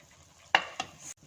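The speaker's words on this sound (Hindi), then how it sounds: "आप इसको साथ साथ भूनते जाएंगे और थोड़ी थोड़ी देर बाद ऐसे ही घी ऊपर आता रहेगा" Halwa stirred and fried in desi ghee in one pot gives two brief scraping, sizzling strokes close by, followed by a softer sizzle, with no talking.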